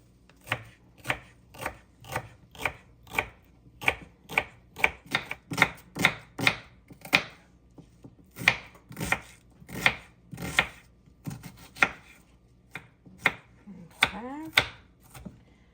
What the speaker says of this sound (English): I'm going to chop up some celery and onion.